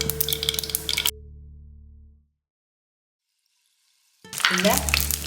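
Dried red chillies frying in hot oil for sambar, loud close sizzling that cuts to a low fading hum and near silence, then bursts back in, with a voice briefly audible.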